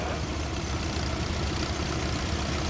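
A 1936 tractor engine runs steadily at a parade, a continuous low rumbling idle with broadband mechanical noise and no breaks, fairly close and even in loudness throughout.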